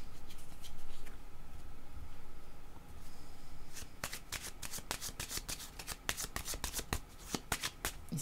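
Tarot cards are handled over a steady background hiss, then riffled in a fast burst of crisp, close flutters and slaps before a card is drawn.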